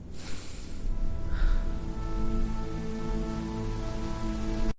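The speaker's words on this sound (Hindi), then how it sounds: "इतनी तेज बारिश" Heavy rain falls over a farmer's field, a steady wash of downpour hiss with a brief splashy burst early on, continuous and fairly close with no one talking.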